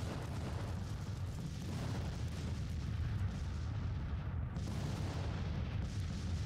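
Artillery fire in the Civil War strategy video game Grand Tactician: The Civil War, a low continuous rumble of distant cannon booms blending together, quiet and unbroken.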